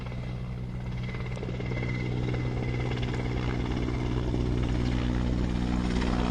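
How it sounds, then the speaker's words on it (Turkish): A helicopter drones steadily overhead at a wildfire in Çanakkale, its loud rotor thrum and engine whine continuous and unchanging throughout. "Bir helikopter daha geliyor."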